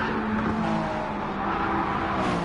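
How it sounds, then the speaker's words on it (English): Tires squeal under a Le Mans hypercar in a racing video game, the worn rubber giving a sustained, steady hiss over the constant drone of the engine, with no voices. "you can really hear the tire screeching on the hypercar of Philip Rage"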